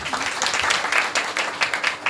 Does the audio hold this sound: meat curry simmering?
no